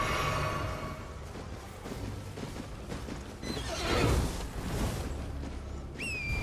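A horse whinnies loudly near the middle in Elden Ring on PS5, with hoof clip-clops and a busy game soundscape around it, and a brief whistle-like tone near the end.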